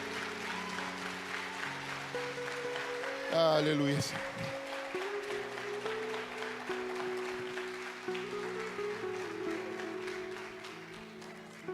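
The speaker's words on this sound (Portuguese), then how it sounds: "Aplauda ao Senhor." Church congregation applauding during a service, a soft steady patter of clapping underneath sustained organ or keyboard chords, with a voice calling out briefly over it.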